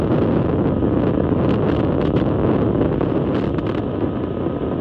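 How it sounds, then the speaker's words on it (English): A SpaceX Falcon 9 rocket's engines roar at liftoff, a dense, steady, loud rumbling wash that holds without pause throughout. "Ignition. And liftoff of Falcon 9."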